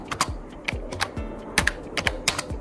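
Quick, close keystrokes on a computer keyboard as a file name is typed, a clattering, uneven run of about a dozen clicks with short pauses and no voices.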